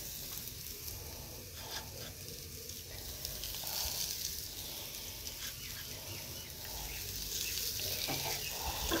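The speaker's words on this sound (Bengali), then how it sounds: "আর এখন কড়াইয়ে সামান্য রিফাইন তেল দিয়ে ওই পেঁয়াজ রসুন একটু লঙ্কা ভেজে নিচ্ছি" Onion, garlic and chili frying in a little refined oil in a kadai, a steady broad sizzle running throughout at moderate level, with faint scraping or water-like clatter now and then.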